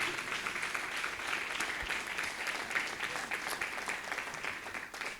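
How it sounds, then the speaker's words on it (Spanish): A church congregation breaks into sustained applause, many hands clapping steadily in a full, even roar from start to finish. "Den un aplauso al Señor si le cree al Señor"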